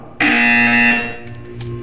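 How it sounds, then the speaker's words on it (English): An electronic buzzer in the Portal 2 video game blares loud and harsh for under a second, then cuts to fainter game sounds with a couple of short clicks. "You will hear a buzzer."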